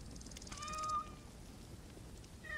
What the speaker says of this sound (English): There are so many cats following me now.